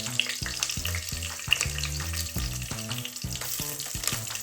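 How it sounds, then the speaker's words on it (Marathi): Green chillies hit hot oil already crackling with cloves, black pepper and cumin for a veg pulao, giving a busy close sizzle with sharp popping bursts and spoon-and-pan clatter throughout. "लवंग, मिरी आणि जिरे हे सगळं थोडंसं तडतडलं की आपण त्याच्यामध्ये त्या 3 मिरच्या, हिरव्या मिरच्या आपण त्याचे तुकडे केले ते टाकून देऊया"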